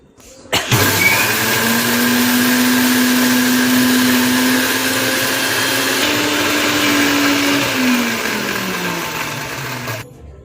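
An electric mixer grinder grinds dried ragi dough into flour, starting abruptly into a loud, sustained whirring drone that shifts pitch partway through before winding down and stopping, with no talk.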